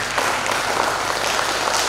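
Dense, steady applause from a large crowd at a motivational seminar, many hands clapping at once in a continuous wash of sound.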